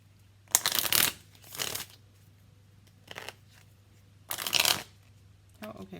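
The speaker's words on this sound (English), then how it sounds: "let's get some more cards here." Tarot cards being shuffled in several short riffling bursts with pauses between, close and fairly loud; a brief rustle closes the run.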